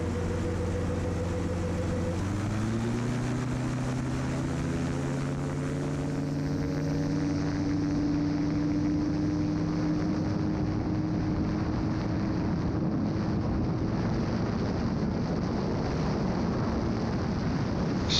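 A gyroplane's engine and rotor wind up for takeoff, a steady drone whose pitch climbs smoothly and continuously, loud and close with wind rushing over the microphone.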